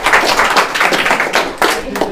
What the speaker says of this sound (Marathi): जोरदार टाळ्या होऊ द्या त्यांसाठी.